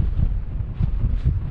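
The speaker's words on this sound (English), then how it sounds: "The forecast is up to 30-mile-an-hour winds tonight. I think it's about 20 now" Strong wind on a mountain campsite at 3750 ft during a blizzard: a deep, gusting roar buffeting close by, surging and easing in quick waves.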